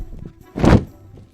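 An umbrella flapped open and shut to imitate a dragon's wings in flight, heard as a single soft, close whoosh-thump with faint bumps around it.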